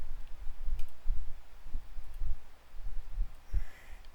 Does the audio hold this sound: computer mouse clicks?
yes